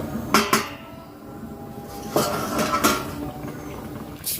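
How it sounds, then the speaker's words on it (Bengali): A metal lid lifted off a pot of Bengali ilish (hilsa) fish curry, giving a few sharp clanks and scrapes of metal on metal, two early and two more about two seconds later, fairly close over a quiet kitchen background. "এবার ঢাকাটা খুলে নেব।"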